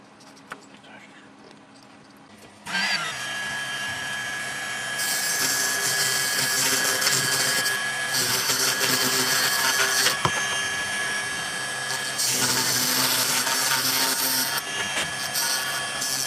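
A small drill bores into the pad of a hybrid power module under repair, starting abruptly with a steady, loud high-pitched whine and grinding that holds for about thirteen seconds, rising in intensity in bursts.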